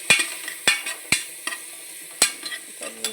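Onions and cinnamon fried in a pan for egg biryani, with a spoon stirring and scraping: a handful of sharp, distinct scrape-and-clack strokes over a quiet background sizzle, close and fairly loud, with no talking.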